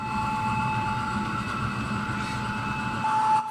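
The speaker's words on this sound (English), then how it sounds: "here the train is pulling through the yard" A model train with a British 2-10-0 steam locomotive pulls through a yard, making a steady rolling rumble with a faint high whine and louder rumbling just before the end.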